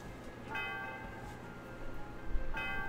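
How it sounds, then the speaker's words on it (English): A bell rings in the Pokemon Black video game, two faint tolls with ringing overtones spaced about two seconds apart over a low background hum. "it's like the opening movie bell"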